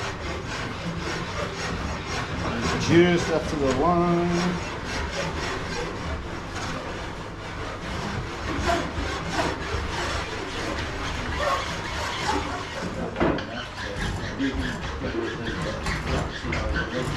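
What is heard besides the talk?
chainsaw file filing groove in wooden bow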